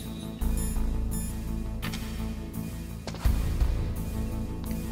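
A hollow-sounding wall being knocked on in Metal Gear Solid on PS1, giving a couple of sharp, close raps over a low, steady game hum with faint tonal beeps.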